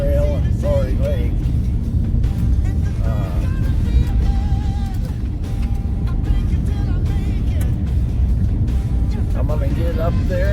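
A car climbs a mountain road near Dubois, Wyoming, heading toward Torrey Lake, giving a continuous low rumble of engine and tire noise with wind buffeting, while someone talks over it.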